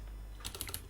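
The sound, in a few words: typing code on a computer keyboard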